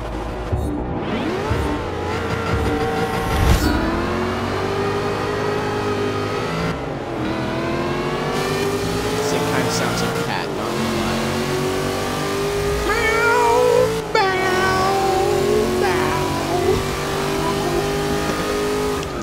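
A Cadillac CTS engine revs hard in the Forza Motorsport 6 racing game, a loud, continuous roar that climbs and drops through several gear changes with sharp shifts between pulls.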